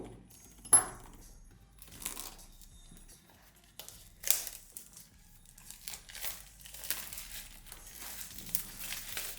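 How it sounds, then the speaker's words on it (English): Plastic wrap on an Asus ZenFone 7 Pro retail box being cut open, giving intermittent crinkling and tearing rustles with a sharp snip near the start, close and fairly quiet. "Let's now cut through the plastic."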